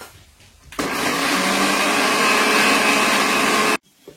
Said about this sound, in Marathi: आणि मी आता ते मिक्सर मधून काढून घेणार आहे